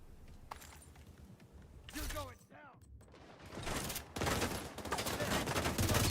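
Gunfire in a PvE shooter game: sporadic shots and clattering bursts building into heavy, loud sustained firing toward the end, with a player talking over parts of it.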